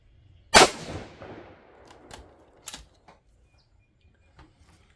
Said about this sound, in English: one more shot here at tuner number 2